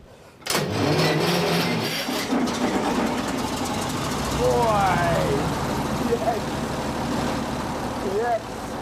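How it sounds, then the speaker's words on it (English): A 90-year-old engine cranks on its starter motor solenoid, then fires and settles into a loud, steady running drone with a knocking rhythm, while squealing whines rise and fall over it. "the best thing about this fantastic 90-year-old engine is that it still runs. And they've allowed me to start it up"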